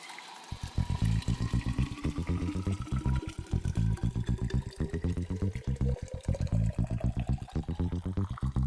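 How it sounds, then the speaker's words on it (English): Hot water gurgles steadily into a thermos for preparing traditional yerba mate, its pitch climbing gradually as the vessel fills, loud and close with no talking. "I'm going to immediately place it into my thermos."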